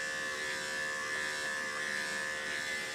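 Electric clippers, set between the 10 and 7 blade, shaving through a mini doodle's tangled, scraggly fur, a steady close buzzing hum with no talking.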